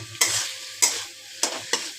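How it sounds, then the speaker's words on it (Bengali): Soaked chickpeas and potatoes fry in ginger, garlic, cumin, coriander and turmeric paste while being stirred, giving a steady sizzle broken by four sharp scraping strokes. The sound is close, and nobody speaks. "এটাকে ভেজে নিচ্ছি আলুর সাথে"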